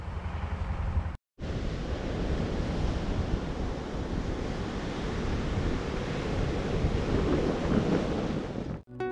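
Rough sea waves roll and crash continuously on open Bagda sea beach, loud and broad, with strong wind buffeting the microphone and a brief dropout near the start.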